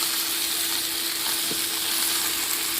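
Fish frying in mustard oil in a pan with pumpkin, a continuous close sizzle with a faint steady hum beneath and one soft tap partway through.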